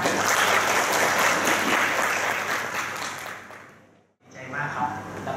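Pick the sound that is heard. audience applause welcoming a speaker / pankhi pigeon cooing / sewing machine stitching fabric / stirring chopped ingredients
audience applause welcoming a speaker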